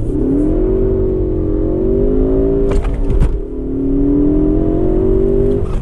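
A 2015 Ford Focus ST runs zero to sixty. The loud, close engine climbs steadily in pitch, dips briefly at a gear change near the middle, then pulls up again.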